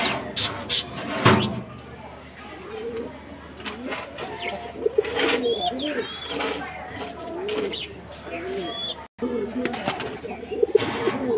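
Doves coo in soft, repeated low calls among other bird chirps at a bird-keeping yard after a storm, with someone talking over them at times.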